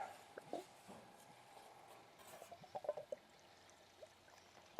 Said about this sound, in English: I'll pour us up some nice red wine